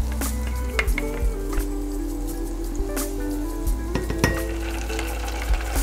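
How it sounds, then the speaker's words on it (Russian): Garlic frying in a mix of olive oil and butter in a pan, with a steady close sizzle and scattered crackles and pops running through the clip. "На смеси масла, на смеси оливкового и сливочного масла подрумяниваем чеснок слегка."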